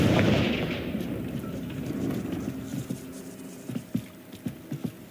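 A Confringo explosive spell in the Hogwarts Legacy video game, opening with a loud roaring blast that decays into a rumble, followed by scattered crackling pops and small bursts.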